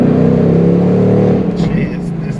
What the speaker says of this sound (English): I will just downshift from third to second.